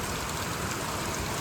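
Heavy village rain pours down in a constant broadband hiss, steady and fairly soft, with no voices.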